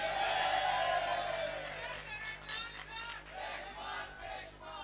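A political rally crowd in Lahore roars and cheers, loud at first and then easing into a rolling, surging clamor of many voices that keeps swelling and fading throughout.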